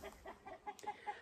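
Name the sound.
chickens clucking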